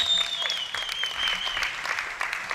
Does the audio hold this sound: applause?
yes